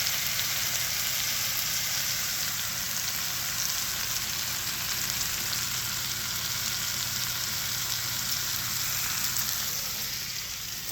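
A chuck roast sears in a hot pan with a steady, bright sizzle and crackle. The sound is close and constant, with no talk over it.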